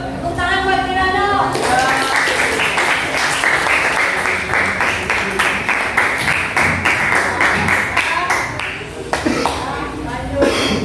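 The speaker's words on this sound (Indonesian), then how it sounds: "Tepuk tangan buat Kirano." A classroom of students claps for a classmate, Kirano, during a teacher's lesson, a dense and loud burst of many hands lasting about ten seconds with a brief voice at the start, then fading out.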